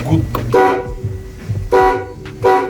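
Short horn toots from a ZIL truck sound in a few separate bursts, close and loud, mixed with voices talking over them.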